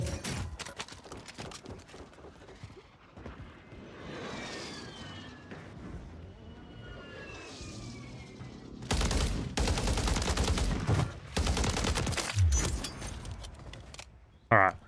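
Rapid automatic gunfire and explosions from a Warzone battle royale match, with long loud bursts of shots and a sweeping high whine, close and dense, some sections quieter with game sounds in between.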